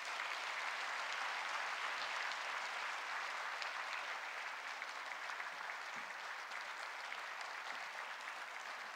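Sustained, dense applause from a large church congregation welcoming a pastor, steady and loud throughout with no talking.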